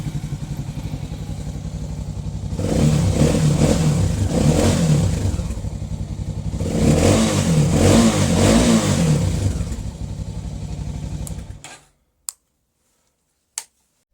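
A 300cc motorcycle engine (YF 300 / Voge / Loncin) idling after a home stator replacement, close and steady with two swelling revs, then cutting off abruptly, followed by a couple of sharp clicks.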